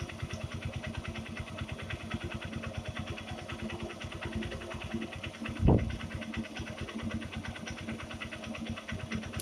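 A Honda Shine SP 2019 motorcycle with a freshly adjusted carburetor runs at a steady, throbbing idle. Partway through, a single brief rise in revs lifts the engine note before it settles back to the even idle.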